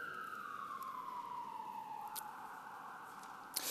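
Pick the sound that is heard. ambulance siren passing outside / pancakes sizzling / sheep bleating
ambulance siren passing outside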